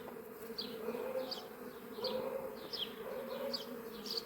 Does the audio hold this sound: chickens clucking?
no